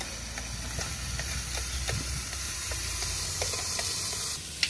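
Sliced onions and paste sauté in a pan, giving a quiet, steady sizzle with a soft hiss and intermittent scraping stir strokes. No one speaks.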